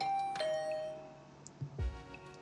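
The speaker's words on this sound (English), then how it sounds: "I rang the bell by the side of the door." A doorbell in the video game The Hundred Line: Last Defense Academy gives a clear electronic chime of two sustained tones, followed by a few soft, low thuds in an otherwise quiet scene.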